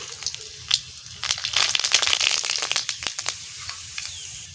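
Mustard seeds crackle and sizzle in hot oil in a home kitchen pan, a dense run of sharp pops and spits that swells in the middle and then thins out, close and fairly loud with no talking.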